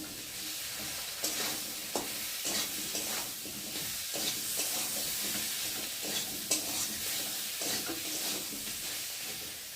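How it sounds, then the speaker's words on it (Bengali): Chili powder and spices frying in a pan as a soybean dish is cooked, with steady sizzling under repeated scraping and stirring strokes throughout. "চলে এবার দেবো লঙ্কার গুঁড়ো দিয়ে ভালো করে কষিয়ে নেব।"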